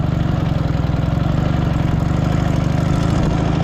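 A Dnipro MT motorcycle engine with the throttle opened on a sandy cross track, a loud close steady rapid thumping drone that holds firm throughout with no talk.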